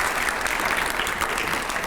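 An audience claps loudly during a panel discussion with editors and a minister, a brief, dense burst of applause heard on its own.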